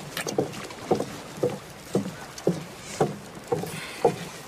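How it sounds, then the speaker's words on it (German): Steady rhythmic paddle strokes of a rented dinghy splash and slosh through water, about two per second, close up with light wind in the background and no voices. "Du hast uns ein Boot gemietet."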